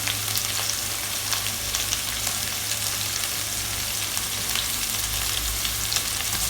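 Chicken kofta balls shallow frying in oil, a dense, steady sizzling crackle that stays loud and unbroken throughout, close up and without talk.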